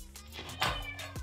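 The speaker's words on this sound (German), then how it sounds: "Die Katze miaut voll, die will hier rein" A cat meowing insistently nearby, wanting to be let in, a drawn-out meow followed by a shorter one, fairly clear over background room noise.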